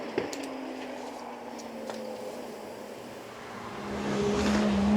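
Aston Martin 7-litre V12 at Goodwood: a steady engine drone holds through the clip, with a single sharp bang near the start and the sound building louder toward the end as the car draws closer.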